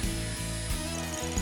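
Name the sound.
wood being planed and smoothed for wooden sandals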